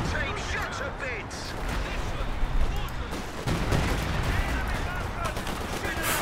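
Dense machine gun and artillery fire rattles continuously through a Company of Heroes 2 battle between Royal Artillery and Storm forces, loud and layered with explosions, while a voice talks over the din.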